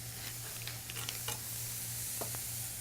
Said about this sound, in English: Now that you can hear the pan's building up some heat